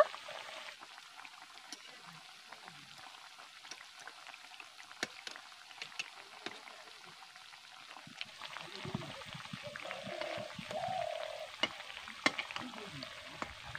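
Wheat-flour sugar biscuits frying in a pan of oil: a faint continuous sizzle with scattered crackles and pops, and a soft nudge of turning or stirring partway through, quiet throughout.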